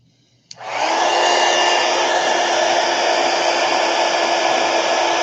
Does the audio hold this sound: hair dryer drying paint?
yes